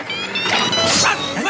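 A dog yips and barks in quick excited bursts, close by, with a bright whining edge and background chatter, from a Spanish-dubbed Lazy Town episode.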